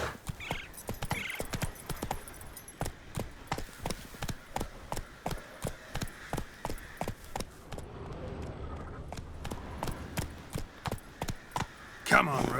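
Horse hooves clip-clop in a steady galloping rhythm in The Witcher 3 video game, loud and close throughout, with a voice speaking over them.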